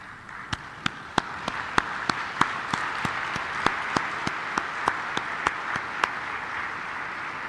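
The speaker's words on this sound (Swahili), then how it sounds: "naomba tusimame na tuwapigie makofi" A standing audience at an African coffee-producing countries' conference applauds coffee farmers, a faint, distant sound with sharp claps recurring steadily in a slow, sparse rhythm, with no talking.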